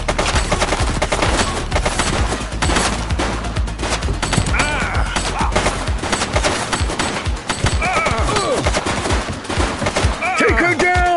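Rapid bursts of gunfire from a suspect shooting at police in The Precinct video game on PS5, dense overlapping shots cracking continuously and loudly throughout, with shouted voices mixed in.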